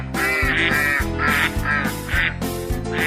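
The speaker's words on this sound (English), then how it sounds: "Bob gets the ducks out of his living room" Several ducks quacking loudly in a rapid, repeated series of harsh, nasal calls, close and continuous with no talk.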